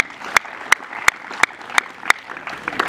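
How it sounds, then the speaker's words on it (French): Audience at a Congolese refugee community swearing-in ceremony claps in a slow, steady rhythm, with about seven sharp, evenly spaced claps standing out over a quieter murmur of scattered clapping. "Vous pouvez applaudir."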